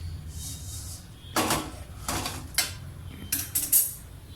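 Dry-roasted pori urundai mixture of puffed rice poured from a kadai into a bowl, giving several bright, crisp rattling bursts as the grains tumble and scrape against metal, separated by quiet pauses over a low background hum.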